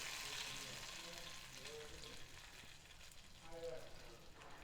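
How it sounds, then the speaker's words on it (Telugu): Mustard seeds, cumin, dried red chillies, crushed garlic and curry leaves tempering in about four spoons of hot oil for amla dal, a faint continuous sizzle and crackle with light stirring. "ఒక 4 స్పూన్లు నూనె వేసుకొని ఆవాలు, జీలకర్ర, ఎండుమిర్చి, కచ్చాపచ్చా దంపిన వెల్లుల్లి, కరివేపాకు ఇవన్నీ వేసుకొని"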